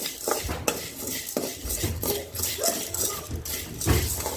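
Chana dal and urad dal dry roasting in a pan for homemade idli podi, with close, irregular scraping and clinking of a metal spoon against the pan and short rattling bursts as the lentils are stirred.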